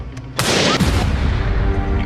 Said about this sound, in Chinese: 粉色的触手怪在爆炸瞬间露出了绿色的内脏，粘液飞溅宣告了怪兽的终结